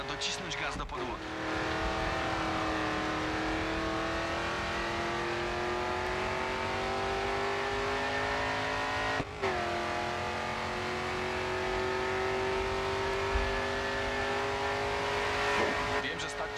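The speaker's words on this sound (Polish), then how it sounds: "Pora docisnąć gaz do podłogi." Race car in GRID 2 under full throttle, a steady rising engine note held for most of the stretch with a brief dip near the middle and tire noise, loud and close, with game voice talk faint in the background.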